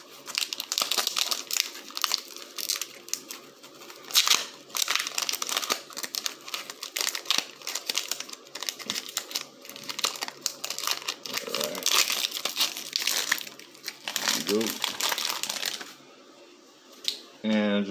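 A Pokemon Burning Shadows booster pack wrapper is torn open, making close, continuous crinkling and ripping foil sounds with short bursts, mixed in with talking.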